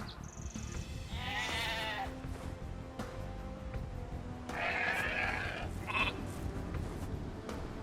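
Sheep bleat repeatedly in Age of Empires II: Definitive Edition on Xbox Series S, several clear, wavering calls over a faint game background, with brief interface tones.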